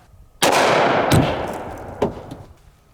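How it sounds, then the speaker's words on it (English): A single loud, sharp gunshot from a 45-70 Derringer fired outdoors, with a long decaying echo and a couple of fainter follow-up knocks afterward; no talking. "Packing around a 45-70 Derringer? Never shot one of these before."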